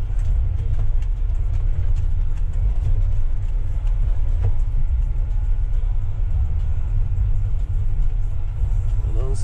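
Tractor engine runs at a steady, loud low rumble while hauling corn from a combine in the field, with faint background talk over the constant drone.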